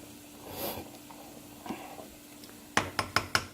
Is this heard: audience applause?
no